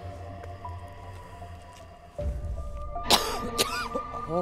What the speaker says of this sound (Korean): 너 기침 나오지?